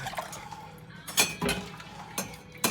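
Blackberry jelly stirred in a pot, with a few clinks of a utensil against metal and soft liquid sloshing, scattered and close.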